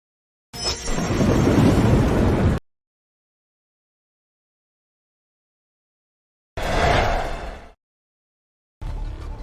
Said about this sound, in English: It's just some thunder.